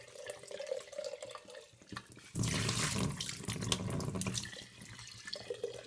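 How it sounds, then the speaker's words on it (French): Sprouting seeds rinsed under a running kitchen tap after an overnight soak, with water gushing loudly into a container and splashing, then easing to lighter trickling. "Après une première nuit de trempage, je vais rincer mes graines."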